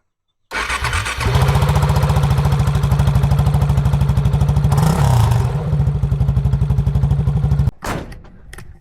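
A motorcycle engine, broken down out in the Utah desert, starts with a clatter and then idles loud and close with a fast steady chugging pulse for several seconds before it cuts off abruptly.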